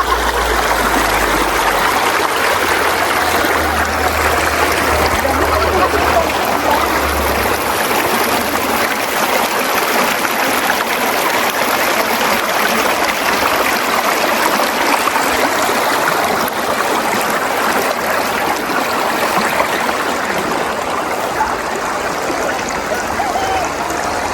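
Steady rushing water of a flowing river, loud and close, with a continuous broadband wash and no break for the whole stretch.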